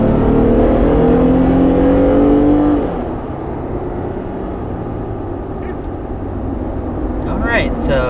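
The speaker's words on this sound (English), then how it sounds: "there is our initial acceleration with the Wrangler Unlimited" A 2021 Jeep Wrangler Unlimited with a 3.6-liter Pentastar V6 pulls away under loud, rising engine drone for about three seconds, then settles to a steadier cruising hum with road and cabin noise.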